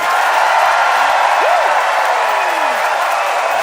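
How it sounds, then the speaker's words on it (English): Big, steady applause fills a theatre as a live debate-comedy audience votes for a contestant, a continuous wash of clapping with scattered whoops and cheers rising over it. "It is time to vote, Centennial Theatre, by applause."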